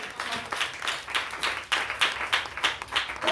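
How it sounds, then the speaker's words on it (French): A church congregation claps during a Sunday service, rhythmic hand clapping in regular beats, fairly close and steady, with no voices over it. "Applaudis très fort le Seigneur."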